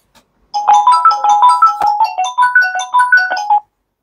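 A phone ringtone plays a bright repeating melodic pattern, loud and close, for about three seconds before cutting off, with no talking over it.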